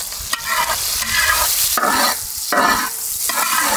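Onions fry in a hot pan for a village-style vegetable masala noodle dish, crackling sizzle broken by repeated scraping strokes of stirring in an uneven rhythm.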